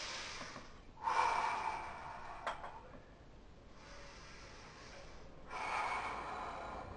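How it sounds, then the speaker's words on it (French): A bodybuilder breathes in two stages while posing: two long, forceful breaths through the nose and mouth, heard close and alone, separated by a quiet pause and a brief click. "La respiration est en 2 temps."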